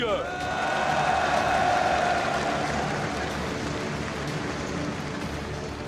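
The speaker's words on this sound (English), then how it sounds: "une salle d'applaudissements, s'il vous plaît, pour Morning" A large crowd applauds steadily at a 2018 MSI League of Legends esports match between Flash Wolves and King-Zone, a dense wash of clapping with a brief tonal swell near the start and the applause fading slightly toward the end.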